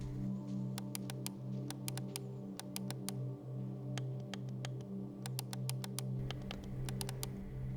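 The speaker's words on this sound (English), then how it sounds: "I prefer the deeper, solid clicking sound of the KP70" Game controller triggers on a ZD Ultimate Legend and a Beitong KP70 being pressed: crisp, evenly spaced clicks in quick bursts over a steady low hum, close and fairly quiet.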